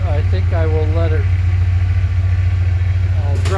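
A Ford F-150 engine idles on all eight cylinders with a loud, steady low rumble. Someone talks briefly over it at the start and again near the end.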